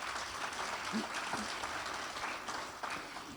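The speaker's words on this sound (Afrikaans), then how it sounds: "Kom ons gee vir hulle 'n lekker hande klap." A church congregation claps together at a service, a dense, steady wash of applause that carries through the whole stretch without a break.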